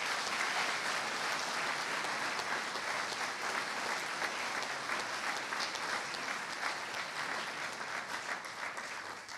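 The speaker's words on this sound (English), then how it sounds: "let's give him a round of applause" A high school awards ceremony audience applauding a staff member: dense, sustained clapping from a large crowd, steady for several seconds before gradually tapering near the end.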